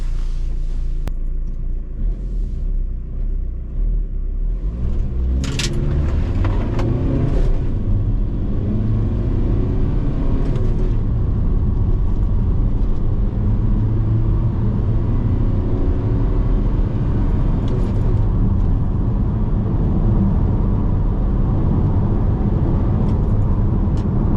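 A VW Transporter T5 1.9 TDI van accelerates from a standstill to 60 mph, its diesel drone and road rumble swelling and rising through the gears, with loud continuous cabin noise throughout.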